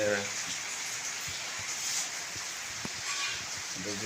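Steady rain pours outside during an unseasonal summer downpour, a continuous broadband hiss of drops lasting the whole stretch, with faint voice sounds underneath.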